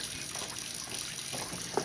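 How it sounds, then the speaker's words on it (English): Tap water runs steadily into a kitchen sink, a soft, continuous splashing hiss, fairly quiet and close, with a small clink near the end. "just let the water keep running"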